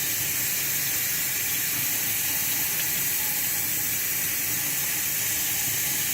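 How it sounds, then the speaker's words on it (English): Ice-cold water pours from a tap over a pressure cooker to cool it, a continuous loud hissing rush of running water with a steady, unbroken texture and no talk. "now I'm cooling the pressure cooker with cold water"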